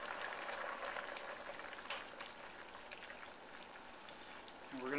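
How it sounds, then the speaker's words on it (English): A pot of shrimp simmering over reduced heat, heard as a soft, steady bubbling hiss that stays even and fairly quiet throughout, with a slight swell at the very end. "We're going to reduce the heat down to a simmer."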